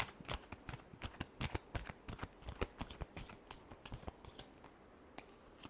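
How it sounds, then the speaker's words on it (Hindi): Tarot cards being shuffled close up, a quick run of soft, crisp riffling flicks in an uneven rhythm, fairly quiet and with no talking. "last shuffle"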